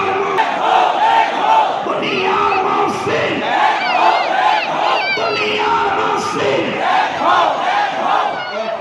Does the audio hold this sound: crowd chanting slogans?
yes